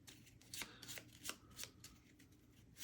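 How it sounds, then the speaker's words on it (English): Board game cards from Merchants Cove shuffled by hand on a table, a quiet run of soft riffling bursts and papery flicks repeating over a few seconds with no talking. "Let's give these guys a nice shuffle. Mix those up pretty well."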